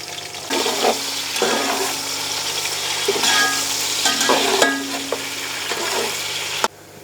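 Four finely chopped medium onions fry in a pan for chicken biryani, a loud, steady sizzle with bursts of hissing and stirring, ending in a sharp clatter.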